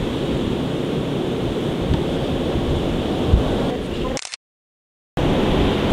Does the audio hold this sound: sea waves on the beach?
yes